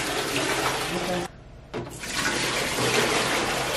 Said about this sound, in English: So now we can pour this water right in the tank, or we can siphon it in slowly.